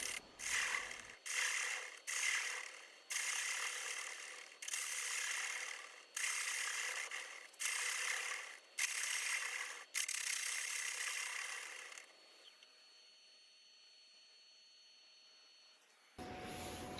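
A bowl gouge cuts into a wood burl spinning on a lathe, a series of rhythmic rasping scrapes in repeated passes, close and distinct, then falling to a quiet hum of the running lathe.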